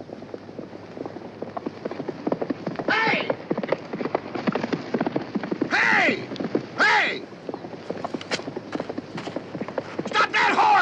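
A loose horse runs with rapid clip-clopping hooves, busy and fairly close, while several people shout over the commotion.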